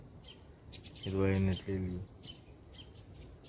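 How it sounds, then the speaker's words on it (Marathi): Birds chirp and twitter in short high bursts around green paddy fields in a Konkan village, steady and fairly distant, while someone talks briefly over them partway through. "इकडे पक्षी किलबिलाट चालू आहे"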